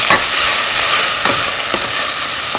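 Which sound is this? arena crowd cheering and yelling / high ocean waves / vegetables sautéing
vegetables sautéing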